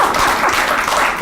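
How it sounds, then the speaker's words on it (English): Brief burst of audience clapping at an art gallery talk, a steady close patter of many hands throughout with no voices. "I'm going to clap for that"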